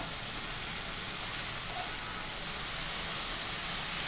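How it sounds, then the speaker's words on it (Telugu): Okra curry (bendakaya koora) simmering in a pan on high heat, giving a steady, even sizzle and hiss that holds level throughout, with no talking. "ఇట్లా ఉడకాలి ఉడికేంతాక చూస్తుండాలి కొంచెం కలపాలి ఇట్లా కలపాలి మాడిపోకుండా"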